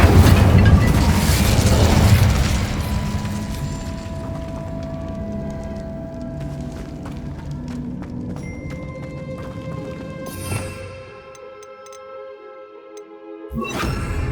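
A fire spell erupts with a loud booming whoosh in Hogwarts Legacy, then settles into a lingering ringing hum with faint crackles before a second burst swells near the end.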